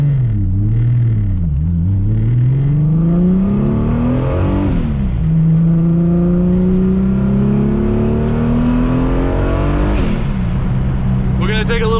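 A 750 whp widebody Audi S4 with a big-turbo VR6 engine idles, then revs in long rising sweeps that fall back, loud and close, with a deep droning tone and voices talking over it.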